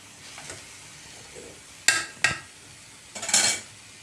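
Shredded cabbage being stirred in a pan for spring rolls, with a faint background sizzle broken by a few sharp scrapes and clatters of a spoon against the pan, the last one longer and louder.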